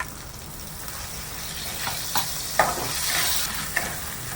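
Ground cumin and pepper paste gets stirred into jackfruit pickle cooking in a hot pan, a continuous soft sizzle with a few scraping clicks from the spoon near the end, no voices.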